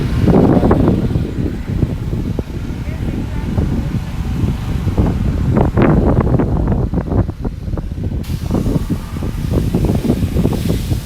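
Strong wind in La Orotava, Tenerife, buffets the microphone in loud, rumbling gusts that continue without a break.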